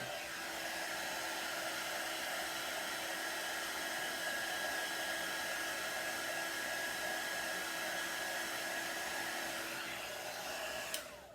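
A hair dryer blows steadily to dry paint on a handmade wooden farm fresh eggs sign. Its loud, continuous whine carries a constant tone and runs unbroken for the whole stretch, cutting off abruptly at the end.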